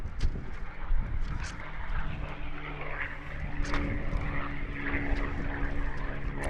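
A P-51 Mustang propeller fighter flies at the Apple Valley air show, its engine drone rising and falling at moderate distance over continuous outdoor background noise.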